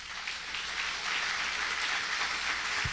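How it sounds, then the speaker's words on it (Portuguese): Church congregation applauding during a worship service, a broad continuous wash of clapping that swells slightly after the first second and holds steady, fairly distant with no voices on top. "Aplauda bem forte ao Senhor."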